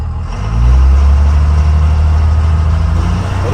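A car engine swells up to a loud, sustained low-pitched roar at wide open throttle after a brief quieter start, holding steady close to the microphone.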